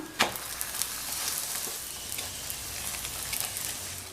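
Carrot chapathi frying in ghee on a hot pan gives a steady close sizzle, dotted with small crackles and pops, with no talking.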